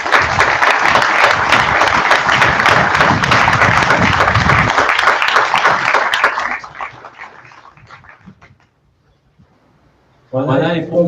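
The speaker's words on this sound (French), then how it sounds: "Je demande à toute l'Assemblée d'applaudir toutes ces personnes." An assembly at a forestry graduation ceremony applauds loudly for about six seconds, the clapping fading out into near silence before a voice resumes at the end.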